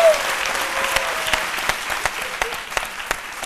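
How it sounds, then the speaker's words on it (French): A television studio audience claps steadily for several seconds. The applause is dense and close, with a few sharper individual claps standing out. "Je veux qu'on acclame le Seigneur,"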